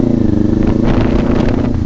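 A 2024 Kawasaki Ninja 500 SE fitted with an SC Project exhaust canister blips its engine in a rev-matched downshift, a loud, close, continuous growl that rises briefly, with nothing else over it.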